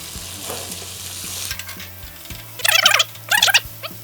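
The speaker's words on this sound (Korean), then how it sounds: "당근이 약간 노릇노릇할 정도로 약간 끝에가 검은검은할 정도로 살짝 태워서 익혀보겠습니다" Chicken pieces and small-cut carrots stir-fry in a hot pan, a steady sizzle with a low hum beneath and two loud bursts of scraping and stirring near the end.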